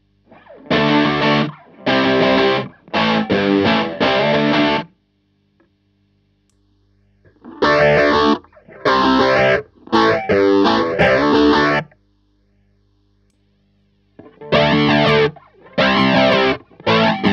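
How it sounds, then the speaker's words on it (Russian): Overdrive effect from a MakModule effects unit applied to a guitar, heard as three phrases of gritty, distorted chords and notes separated by short silences. "Овердрайв."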